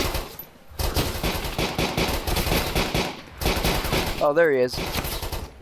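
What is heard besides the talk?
gunfire in the video game Arma 2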